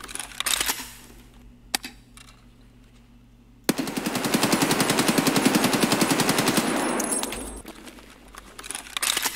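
Full-auto burst from an AKS-74U in the shooter game Escape from Tarkov: a rapid, evenly spaced string of loud shots lasting about four seconds, preceded by a single sharp click and faint handling noises, with no talking.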